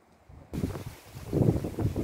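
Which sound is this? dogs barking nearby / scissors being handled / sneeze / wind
wind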